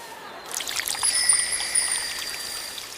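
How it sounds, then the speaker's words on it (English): Water is poured onto freshly planted seeds in a community garden, a steady trickle and splash close by with no voices, lasting only a few seconds. "they water the seeds"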